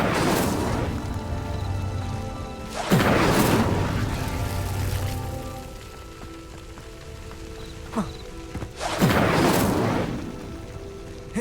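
Fire spell cast in Hogwarts Legacy: several loud whooshing bursts of flame flare up and die away at intervals, separated by quieter crackling ambience, with no talk over them.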